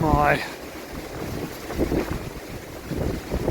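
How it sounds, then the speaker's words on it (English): Steady wind buffets the microphone in low rumbling gusts on the Camino de Santiago, Via de la Plata, swelling and easing throughout, with no clear voices. "Still very windy."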